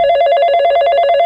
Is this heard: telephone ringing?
yes